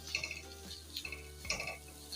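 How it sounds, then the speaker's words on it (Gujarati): A utensil scrapes and stirs chilli powder and garam masala through potatoes in a pan, with soft clinking and a faint sizzle in a few short bursts. "આ બધો મસાલો મિક્સ કરી લેશું"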